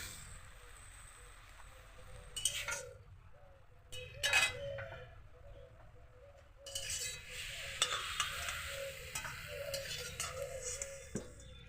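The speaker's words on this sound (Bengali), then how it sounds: "শাক ভাজা হয়ে গেল এখন শাকটাকে নামিয়ে নিচ্ছি" Light scraping and clinking of a spatula in a pan as fried greens are stirred and lifted out, with a few sharper clatters over a quiet kitchen hum.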